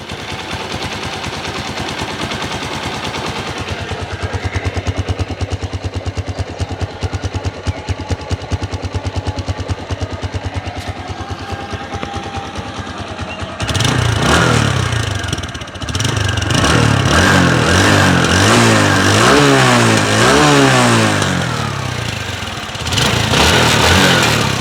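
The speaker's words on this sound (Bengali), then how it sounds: "আপনাদেরকে গাড়ির ইঞ্জিন সাউন্ডটা শোনানোর চেষ্টা করব।" A used TVS Stryker 125cc motorcycle engine idles with a rapid, buzzing putter, then revs up loudly in repeated rising and falling bursts. The sound is close and there is no talk.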